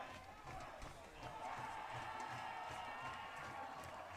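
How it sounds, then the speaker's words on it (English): At a college football homecoming game between Southern Virginia University and Greensboro College, fans and cheerleaders roar in a steady, distant crowd din. A voice talks over the cheering. "fans cheering, cheerleaders cheering."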